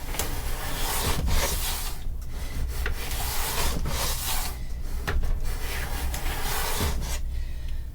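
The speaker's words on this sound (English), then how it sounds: "Planing's not that fun" Hand planing a wooden guitar neck, repeated rasping strokes of the plane blade shaving the wood close up, in an uneven rhythm of roughly a dozen passes, with no voices.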